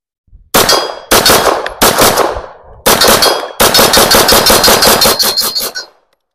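A Dan Wesson DWX full-size pistol fired at close range: a few spaced single shots, then a rapid string of loud sharp reports in quick succession before stopping.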